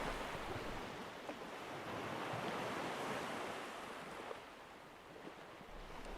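Surf rolling in over rockpools as the tide rises on a rocky shore, a steady close wash of breaking water with gusts of wind across the microphone, continuous and unbroken throughout.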